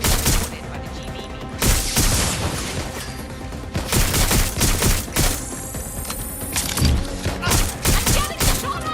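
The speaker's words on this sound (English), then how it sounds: "I'm getting shot at here!" Dense gunfire from the video game Watch Dogs Legion, rapid automatic bursts and single shots cracking continuously over a busy background with thuds and impacts, loud and close throughout.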